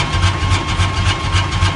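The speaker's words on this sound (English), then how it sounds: "it always takes much longer to start the car" A rally car's engine runs with a deep, rhythmic low throb and pulsing, close and loud, with no voices over it.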